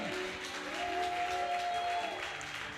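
A church congregation claps and cheers in sustained, dense applause filling a large room, with a faint held vocal tone rising above the crowd midway.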